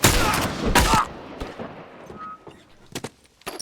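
A burst of gunfire from The Last of Us Remastered on Grounded difficulty: a loud rapid volley of shots up front, then scattered single cracks and a few sharp reports trailing off more faintly.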